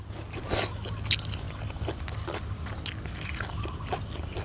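Close, crunchy chewing of grilled pork neck with a few sharp bites and crackles, quiet and intermittent, with a faint low hum in the background.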